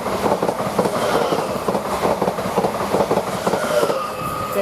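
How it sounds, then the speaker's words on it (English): A Greater Anglia train from London to Norwich passes through Witham station, a loud, steady rush of wheels and rail noise with rhythmic clickety-clack over the joints and faint squeal, continuous throughout without talk. "Now we're getting some Greater Anglia train from London to Norwich, passing at 1108,"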